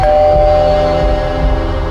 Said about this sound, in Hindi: उस रात हमारे घर के दरवाजे पे एक घंटी बजी।